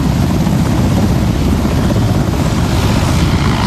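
A helicopter hovering over a stadium during an independence anniversary celebration while rappellers descend, its rotors and engine making a loud, continuous roaring wash that stays steady and near throughout.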